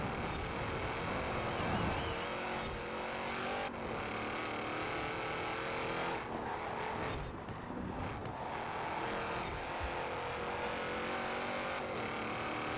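Race car engine in the Forza Horizon 4 video game drones and revs steadily through a competitive race, easing on and off the throttle around corners, with other cars' engines mixed in and no voices.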